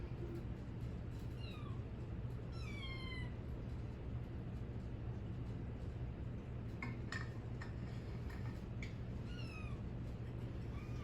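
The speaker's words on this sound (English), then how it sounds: "Relaxing to the sound of my kitten." A kitten meows in a few short, high, rising cries, then a run of quicker little squeaks and mews, faint over a steady background hum with no talking.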